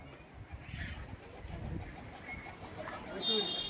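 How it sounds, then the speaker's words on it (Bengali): Racing pigeons coo softly and low, a faint murmuring rumble amid quiet outdoor ambience with possible distant voices. "দুটোই বাজির কবুতর"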